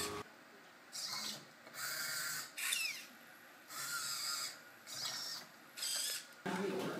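Vision-based robotic arm picking up colored boxes, its servo motors whirring in short, regular bursts separated by brief pauses, close and fairly quiet.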